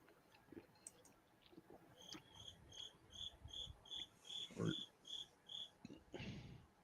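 A cricket chirps in a steady repeating pulse, about two chirps a second, faint and nearby, with a few soft clicks and thumps around it.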